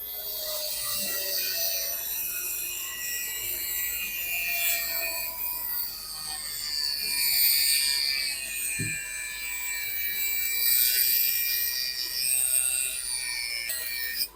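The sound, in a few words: Uniqual rotary tool cutting a hard metal wire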